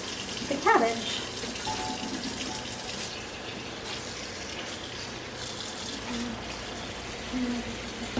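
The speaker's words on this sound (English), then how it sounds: "And now we are going to rinse the cabbage." Tap water runs steadily into a kitchen sink as cabbage is rinsed under cold water, a continuous close splashing wash with a brief clatter near the start and no talk.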